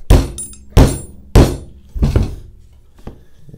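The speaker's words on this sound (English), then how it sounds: "So I'm going to smack out this roll pin here." Four sharp, loud metallic knocks from a hammer driving a punch against a roll pin in a rifle charging handle latch, with irregular gaps between strikes and a fainter fifth tap at the end.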